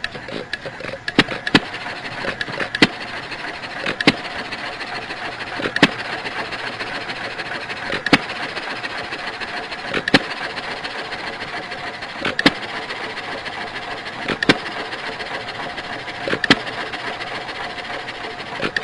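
A simulated virtual engine runs at a single constant speed, producing a steady mechanical drone with sharp ticking clicks that repeat at a regular, even rhythm throughout.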